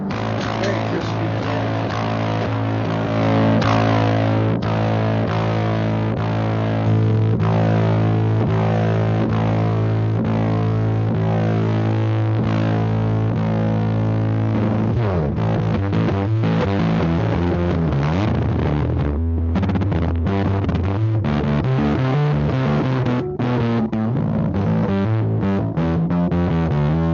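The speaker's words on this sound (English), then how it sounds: "what's nice with distortion pedals is they each have their own sound" An electric guitar plays through a distortion pedal, heavy sustained chords with a thick, buzzing overdriven tone, shifting to choppier, more rhythmic strummed phrases partway through, loud and without talk.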